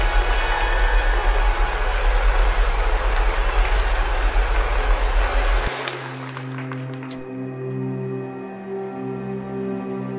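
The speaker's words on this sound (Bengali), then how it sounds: "বহু কণ্ঠের সম্মিলিত হর্ষধ্বনি, করতালি, পুনরাভিনয়ের অনুরোধ" A dense, loud wash of many voices cheering and hands clapping fills the first half, then cuts abruptly to quieter tonal background with sparse scattered claps.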